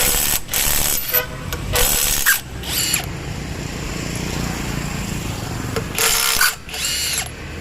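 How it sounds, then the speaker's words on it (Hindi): A cordless 1/2-inch electric impact wrench from Pumpkin loosens wheel nuts in a workshop, giving several loud, harsh hammering bursts of a few seconds each, with quieter mechanical noise in the pauses between them. "इस मशीन से आप 3 सेकंड से भी कम टाइम में नट खोल सकते हैं।"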